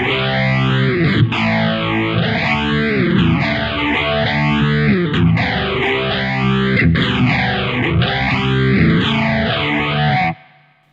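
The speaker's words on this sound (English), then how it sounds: "So you can get into that 4-stage, 4-pole phasing, some real jet sounds" Distorted electric guitar through the 4-pole phaser of a NUX MG-300 multi-effects unit, sustained chords swept by a deep, regular jet-like whoosh that rises and falls in repeating cycles until the sound cuts off at the end.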